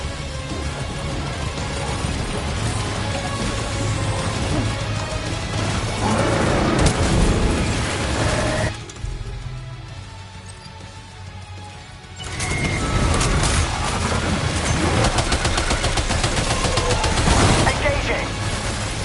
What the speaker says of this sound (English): Opening fire now.